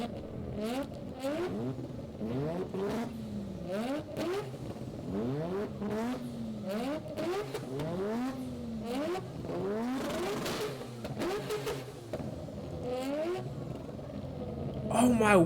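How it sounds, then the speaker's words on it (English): A Mazda RX-7 with a 13B rotary engine revs repeatedly, quick climbing and falling engine sweeps in close succession, loud and nearby, with people talking now and then. "See how fast it revs?"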